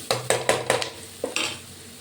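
Onions sizzle in a pan as a spoon stirs them briskly, giving a run of about six quick scraping strokes over the frying hiss, nearby and with no talking.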